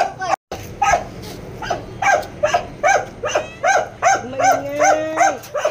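Several dogs bark repeatedly and loudly at close range while being fed in the dark, with a whine or whimper rising near the end and people talking over them.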